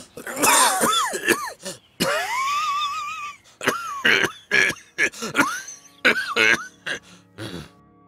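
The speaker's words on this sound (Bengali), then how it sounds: "বুকে হাত রেখে বিকট শব্দে কাশতে লাগলেন" A person clears their throat and coughs loudly several times, harsh bursts with groaning, strained breaths between them.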